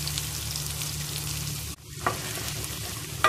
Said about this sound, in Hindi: अब इसके अंदर हम ये कटी हुई प्याज डाल देंगे, कटी हुई प्याज को थोड़ा नरम होने तक बनाएंगे इसको।